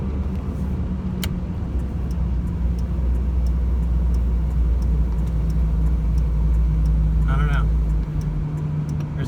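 A Nissan Altima that is down on power, its engine floored at full throttle, gives a steady heavy rumble and drone that holds, then eases off near the end, with a brief voice over the noise.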